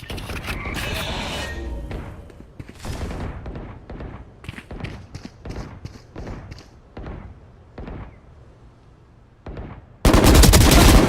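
Rapid bursts of gunfire in a shooter video game crack out in uneven clusters of sharp shots, close and punchy, ending in a sudden loud blast of noise, with only brief game voice lines.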